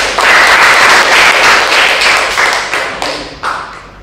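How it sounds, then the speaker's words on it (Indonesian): A lecture audience applauds loudly and steadily, the clapping dense and close, thinning out toward the end with a few last claps. "Oke, tepuk tangan dulu dong."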